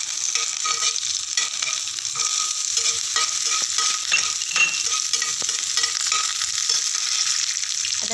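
Cumin, green chillies and a bowl of peanuts frying in a pan for a fasting dish, a constant bright sizzle with small pops and occasional light stirring clicks, close and alone.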